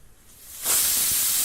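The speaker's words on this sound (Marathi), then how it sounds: "कुकरचे झाकण लावूया चार शिट्या करून घेऊया" A kitchen pressure cooker lets off steam: quiet at first, then a sudden loud, sustained hiss of escaping steam that holds steady to the end.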